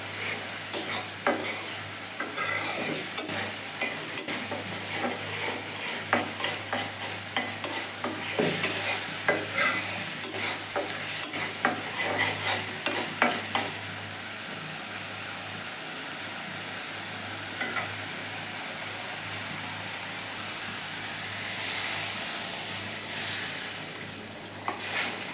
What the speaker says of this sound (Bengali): এবার আবার এই মশলাটা ভালোভাবে কষিয়ে নেব।